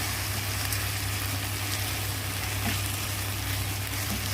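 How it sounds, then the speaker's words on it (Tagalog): Shrimp added to a hot pan with softened tomatoes for a Filipino mung bean dish produces a steady, close, bright sizzle that holds evenly throughout, with a low hum underneath. "Ngayon, lagay na natin yung hipon na hipon."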